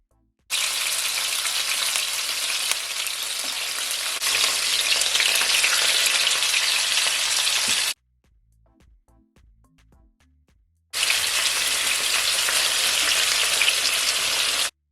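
Oxtail searing in a hot pan, a loud, dense sizzle that runs steadily, drops to near silence for a few seconds, then returns just as strong.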